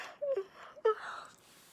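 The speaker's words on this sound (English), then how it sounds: "I'm going to yawn again." A person yawns, making a short breathy, moaning vocal stretch with a couple of quick intakes and a drawn-out, fading exhale, close and fairly quiet.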